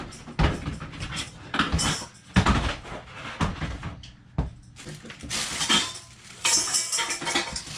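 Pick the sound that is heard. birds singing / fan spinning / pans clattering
pans clattering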